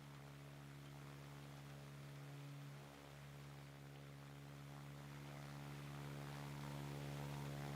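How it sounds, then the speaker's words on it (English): A steady droning engine hum, like an aircraft propeller in the naval combat video game World of Warships, holds at a constant level for several seconds beneath low game ambience, with no talking. "I hear the propeller already."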